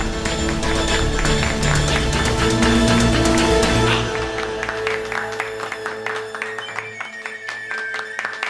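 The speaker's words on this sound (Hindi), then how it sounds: "ताली बजाओ" A crowd claps steadily during a tense Hindi TV drama scene, the dense rattle of hands sitting over loud dramatic music with sustained tones that continue after the clapping thins out.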